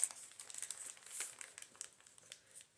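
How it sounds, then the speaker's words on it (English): Paper card being cut to length with scissors for a scrap notebook, a close, faint run of crisp crinkly snips and rustles with no talk. "Cut off the length."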